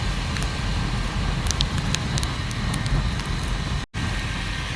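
Steady rain falls on an outdoor trek route to Duke's Nose, a dense broadband hiss that holds evenly throughout with a brief dropout near the end, no voices heard.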